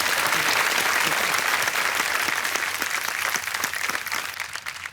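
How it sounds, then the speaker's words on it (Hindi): A studio audience on a TV quiz show claps loudly and continuously for a husband, the dense applause holding steady and then slowly tapering off. "बार उनके लिए तालियां बज जाए।"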